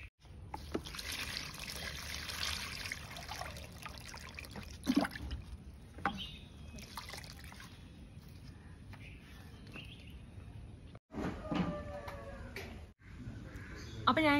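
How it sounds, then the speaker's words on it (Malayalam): Water pours steadily into a container holding a used baby diaper, a continuous trickling splash with a few sharper knocks and brief pauses. "കുറച്ചും കൂടെ ഒഴിക്കാം, എന്നാലും നല്ലോണം മുങ്ങിക്കിടക്കുമല്ലോ"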